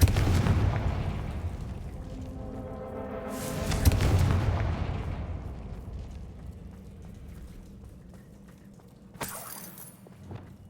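Spell explosions from the Hogwarts Legacy video game, several loud booming blasts with rumbling, crackling tails fading out, followed by a sharp burst near the end.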